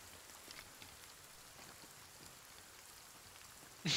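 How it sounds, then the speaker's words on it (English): Rain falls steadily in the survival video game Sons of the Forest, a soft, even hiss with faint scattered drops that stays low throughout before a brief louder burst at the very end. "It appears to be raining."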